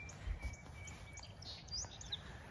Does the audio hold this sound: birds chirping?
yes